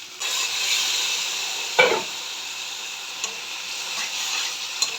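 A splash of water hits puti fish cooking in spice paste in a pan, a sudden loud hiss near the start of an ongoing close sizzle, followed by a couple of light clicks.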